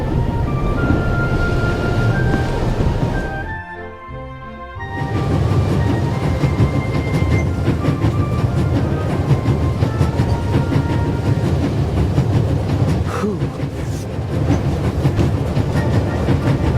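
A train travels on rails in the game The Raven - Legacy of a Master Thief, a steady loud rumble with rhythmic clickety-clack that briefly drops away before returning, with no talk.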